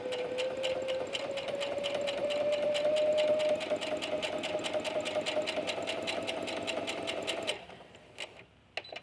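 Sewing machine stitching a seam with stretch thread, rapid even rhythmic clatter of the needle with a rising motor whine, close and steady, then slowing into a few scattered stitches as it stops.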